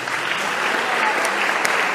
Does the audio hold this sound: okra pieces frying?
no